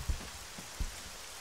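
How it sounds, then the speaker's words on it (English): Steady rain falling in the Arma 3 video game, a soft continuous wash with a few dull low thumps, faint and alone with no voices. "This rain looks really awesome, and because it's catching the light from the fire."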